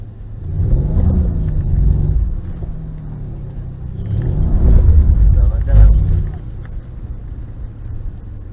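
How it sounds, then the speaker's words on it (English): A Mercedes-Benz car on a track gives throttle blips, its engine rumbling and swelling in a couple of revving surges while someone talks over it inside the cabin. "And again, a little blip on the throttle."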